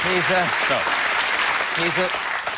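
A studio audience on a British improv comedy show gives a short round of applause, a steady wash of clapping with someone talking over it.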